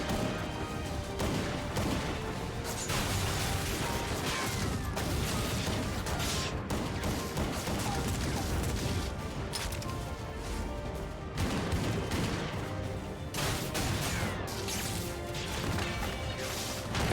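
Heavy, continuous gunfire from earth-infused bullets in a fantasy shooter mixes with crashing impacts and mechanical clatter, a dense and loud wall of battle noise that runs without pause and carries no talk.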